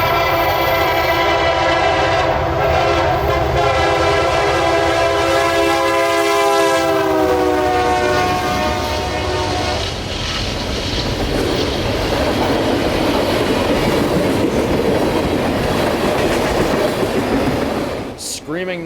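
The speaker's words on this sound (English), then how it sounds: "Screaming north through Kingston would be CSX train K492" A CSX freight train of empty ethanol tank cars screams north through Kingston, its horn sounding loudly at first, then giving way to a long steady rumble and clatter of passing cars.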